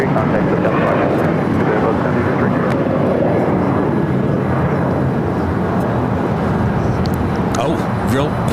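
American flight 1083, a Boeing 737-800, departing LAX toward Seattle, with a loud, steady jet engine roar filling the whole stretch while someone talks over it.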